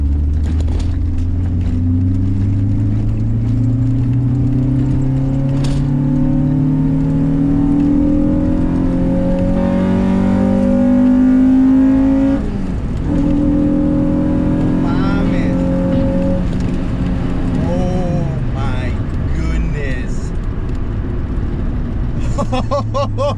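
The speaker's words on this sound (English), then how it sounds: "That's the first time I ever hit VTEC on a V18, and that was gnarly." Acura Integra Type R clone engine revving hard and climbing into VTEC, the pitch rising through several sweeping pulls, loud and close, then dropping back toward idle.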